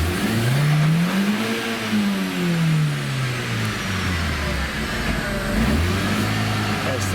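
A first-generation Audi TT Quattro, fitted with a swapped transmission, revs while driving. The engine drone climbs and falls through the gears, loud and close, with steady road and wind noise underneath.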